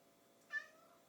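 A single short cat meow indoors, moderately loud and close against a quiet room, rising and then trailing off over about half a second.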